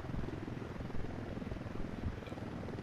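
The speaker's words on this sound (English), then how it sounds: "There's a helicopter right there, too." A helicopter in the video game Ghost Recon Wildlands gives a steady, dense rotor drone that holds at an even level throughout, with no talk over it.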